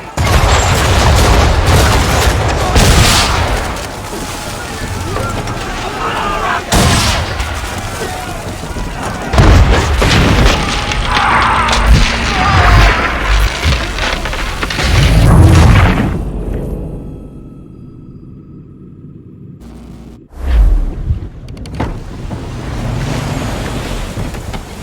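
Naval battle in Assassin's Creed III, with heavy booms of cannon fire over continuous crashing waves and wind at sea. Loud, rumbling blasts recur at intervals, then a quieter stretch, one more sharp burst, and the surf resumes. Voices are present.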